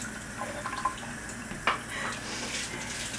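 Cold tap water runs over hot cooked lasagna noodles in a home kitchen, giving a soft, steady trickle with a few splashes and drips, fairly quiet and close.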